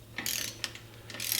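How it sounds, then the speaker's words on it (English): A torque wrench tightens a bolt with Loctite on a Dana 30 front axle from a 1972 International Scout. Close, dry ratcheting clicks come in short bursts over a steady low hum. "I'm going to put about, I don't know, 15 foot-pounds of torque on it"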